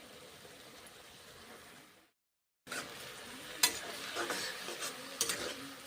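A drumstick leaf and winter pea curry with turmeric and salt sizzles in a pan while a utensil stirs it, with clinks against the metal and frying hiss resuming after a brief silence; nobody speaks.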